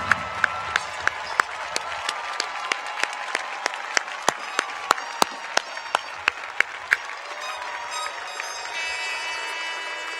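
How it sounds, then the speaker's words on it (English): An audience at the Cal Poly spring commencement applauds graduates' families, with crowd clapping that is loud and dense, some sharp individual claps punching through near the mic. The clapping thins toward the end, with no spoken words. "Again, we say thank you and we applaud you."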